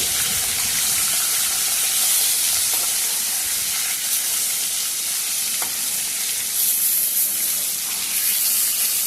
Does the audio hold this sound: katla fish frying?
yes